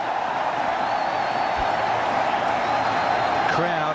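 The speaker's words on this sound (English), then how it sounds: "Crowd are going berserk. They're loving this." Cricket stadium crowd roaring in a sustained, dense wash of cheering after a boundary during a Bangladesh versus New Zealand one-day international, loud and continuous with commentary voices layered over it.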